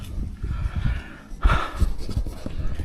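A man panting heavily after hauling building materials uphill in summer heat, with rough, uneven breaths close to the mic and one sharp gasp partway through.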